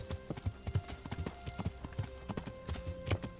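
Horse hooves clip-clopping at a steady riding gait in the medieval video game Kingdom Come Deliverance, a rhythmic run of hoof beats at moderate loudness with no speech over it.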